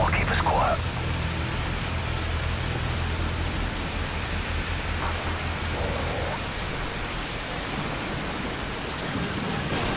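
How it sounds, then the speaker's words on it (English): Heavy rain falls during a storm at night by docks and boats in Modern Warfare 3. A constant hiss of downpour carries throughout, with brief faint voices and low rumbles under it. "It is very rainy here."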